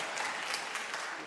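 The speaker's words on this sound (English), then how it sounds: "Actually, I thought I would get more applause" Brief, faint patter of audience applause at a New York Public Library interview event, a thin smattering of clapping that stays steady and fairly distant for about a second.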